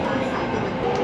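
An electric Red Line commuter train arriving at Bang Sue Grand Station gives off a steady, close rumble and rolling hiss from inside the carriage, brief and unbroken.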